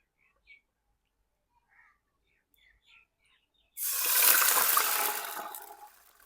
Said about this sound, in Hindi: अब शामिल करते हैं पानी, बिस्मिल्लाह।